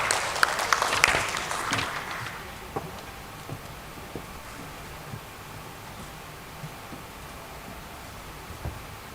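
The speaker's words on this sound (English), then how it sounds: "Let's once again welcome him on stage with a round of applause" An audience at the Maiden Forgings Limited SME listing ceremony at BSE gives a brief burst of applause that fades after about two seconds, leaving a quiet hall with faint room noise.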